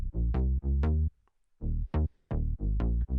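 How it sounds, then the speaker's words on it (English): A synth bass line for an EDM track plays alone, punchy notes in a syncopated quarter- and eighth-note rhythm with a short gap mid-phrase, loud and close. "So first of all, the groove is kind of driven by this bass line,"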